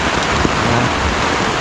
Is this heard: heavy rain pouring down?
yes